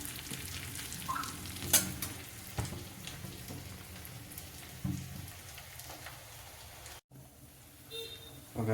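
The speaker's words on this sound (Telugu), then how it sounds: "ఆనియన్ వేసి ఇలా ఫ్రై చేసిన" Chopped onions frying in a pot of oil for a one-pot tomato pasta give a steady crackling sizzle, with occasional sharper pops and stirring scrapes, close and moderately loud throughout.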